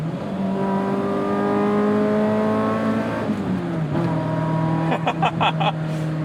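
A 1988 BMW M3 E30 with a 7,000 RPM redline is driven hard from inside, its engine climbing in loud, steady revs before shifting and dropping pitch, then pulling again with some rattling at the end.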